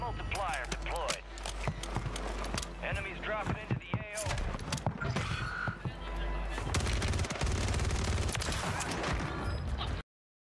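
Three-shot burst rifle fire in Warzone 3 comes as sharp bursts of close gunshots among scattered game noises and clatter, with a heavier stretch of firing near the end.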